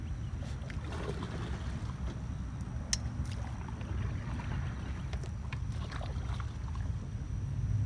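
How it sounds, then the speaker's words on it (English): Canoe paddling on open water outdoors, with steady low water and wind rumble and faint scattered splashes and dips from paddles throughout. "now it's your turn to paddle the canoe"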